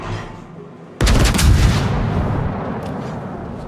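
A warship's secondary battery opens fire in World of Warships, a sudden loud booming volley that rolls on with overlapping blasts and rumble after a quieter lead-in.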